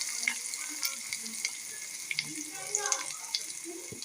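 Chopped onions and tempering spices sizzle in a spoonful of hot oil in a pan on the stove, a steady, close frying hiss with light crackles throughout.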